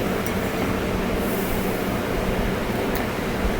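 Steady rumble of a train riding through Chesapeake, Norfolk and Virginia Beach, a continuous dense wash of rolling noise with no talk over it.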